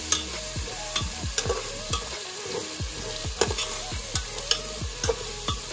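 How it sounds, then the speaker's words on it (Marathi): Coconut and onion paste masala frying in a pan for a village-style mutton curry, with a steady sizzle and repeated scrapes of stirring close by, no voices. "आपला मसाला आता छान फ्राय होतोय"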